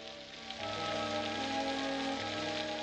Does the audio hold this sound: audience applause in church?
no